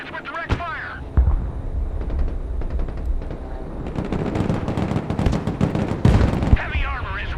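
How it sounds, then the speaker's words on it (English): Direct-fire gunfire from units in the video game Broken Arrow, a dense run of overlapping shots and booms with a heavy low thump near the start and a louder blast near the end, under a game announcer voice. "Engaging targets with direct fire."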